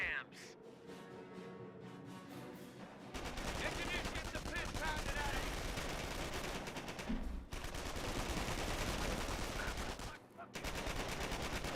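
Gunfire in a Company of Heroes battle: dense, continuous rattling machine-gun and rifle fire that starts after a quieter opening, with brief breaks, while a caster's voice talks over it.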